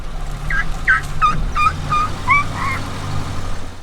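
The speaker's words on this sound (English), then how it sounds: "it was a young elephant who was making this strange bird-like sound as the tourist vehicles went by" A young elephant beside a forest track makes a string of about eight high, bird-like chirps in a steady rhythm, loud and close over a low rumble of idling safari vehicles.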